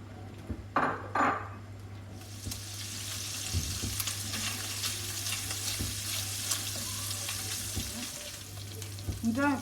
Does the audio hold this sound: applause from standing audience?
no